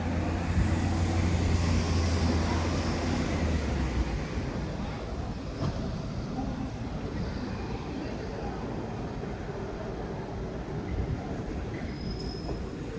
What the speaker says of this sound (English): As you can hear, it is quite noisy outside